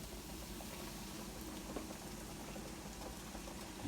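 Chicken pieces frying in a pot of oil, a quiet, constant sizzle and crackle of bubbling fat with no talking.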